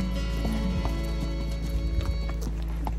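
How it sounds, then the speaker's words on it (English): Hooves of a bay horse clop at a walk along a camping trail near Ferguson Lake, soft irregular knocks over a steady low hum, with a faint snort and gentle movement sounds nearby. "Are you riding a horse?"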